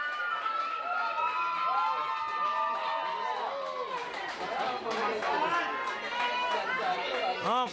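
A crowd at a girls' hockey match cheers and chatters steadily after a goal, with shrill whistles and rising shouts over continuous excited noise, while a commentator talks throughout.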